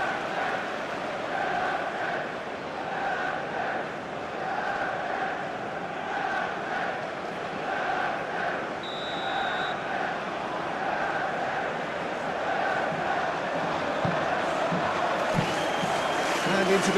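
A stadium crowd in the football game PES 21 keeps up a steady roar with rhythmic rising chants through a Brøndby IF versus Manchester United Europa League match. A brief whistle-like tone cuts in, and a commentator's voice sits in the mix.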